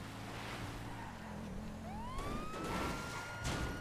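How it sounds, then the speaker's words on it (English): Police sirens wail in the video game Grand Theft Auto Online, a rising electronic tone sweeping upward over a low rumble of engine and game noise, moderately loud and without talk. "I still hear the sirens."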